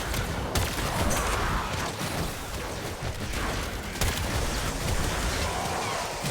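Incarnon Latron Prime gunfire in the Warframe video game: dense, loud, sustained bursts of shots blending into a continuous barrage, with occasional sharper cracks standing out near 0.5 and 4 seconds.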